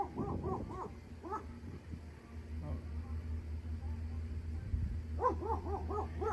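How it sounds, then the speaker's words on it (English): Dogs bark at a package delivery in quick repeated bursts, a cluster at the start and another near the end, with a low hum and muffled background noise between. "the dogs are barking, giving them hell"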